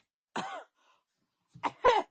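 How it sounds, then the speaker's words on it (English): A single cough, a short pause, then two more quick coughs in a quiet room, close and fairly soft, with no talking. "I'm coughing"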